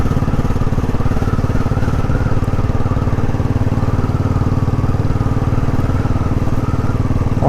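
A Royal Enfield Classic 500 single-cylinder engine thumps steadily and loudly while riding, a continuous even rumble with a regular pulsing beat and no talk.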